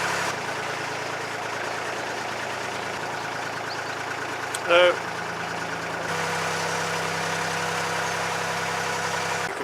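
A narrowboat engine drones continuously at about 1400 revs on a canal, with a short bright clatter partway through and a slight shift in tone later.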